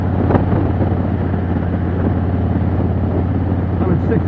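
A cruiser motorcycle rolling along in sixth gear at about 60 mph and roughly 2,150 RPM, a steady low engine hum buried in constant wind rush, with no change throughout.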